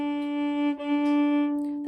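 A violin bowed with only an inch of bow produces a thin, wimpy sustained tone, a single steady pitch with a brief dip in the middle, close and alone.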